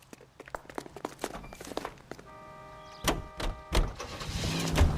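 Car from the video game L.A. Noire being driven, a steady engine hum with clicking footstep-like taps early, then heavier thumps and rising engine noise toward the end; faint speech may be present.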